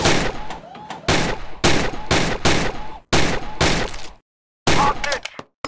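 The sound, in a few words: gunshots in the VR video game Gun Club VR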